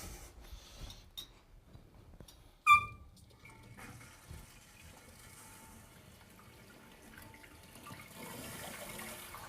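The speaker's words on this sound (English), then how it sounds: "turn the water on." Water runs quietly into a newly installed toilet's tank after the supply is turned on, a faint steady trickle following a brief sharp clink, growing slightly louder toward the end.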